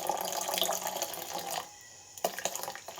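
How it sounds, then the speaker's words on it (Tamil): Water pours into a glass of fresh pomelo juice, a soft, close splashing trickle that stops briefly partway through and then resumes with a few small splashes. "கொஞ்சம் வாட்டர் சேர்த்துக்கலாம்."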